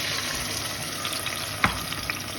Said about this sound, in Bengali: একটু ভাজা করে নেব ভালো করে যেন একটু ভাজা হয়ে যায় পেঁয়াজটা